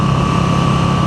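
A Moto Guzzi V7 Sport motorcycle engine drones steadily and loudly while the bike is ridden through a curve, a close, even hum with a strong low throb.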